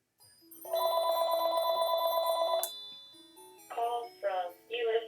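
A phone rings with an incoming call, one long electronic ring tone followed by a pause and then three shorter chirping bursts, clear and fairly close over a faint background hum.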